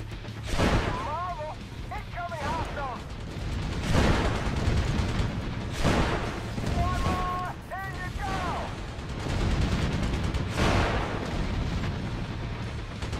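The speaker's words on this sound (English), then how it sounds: "left click, shoots machine guns" Helicopter machine guns in Thunder Wolves fire in heavy rumbling bursts alongside explosions, with a continuous engine drone and repeating electronic warning beeps, and a voice talks over the action throughout.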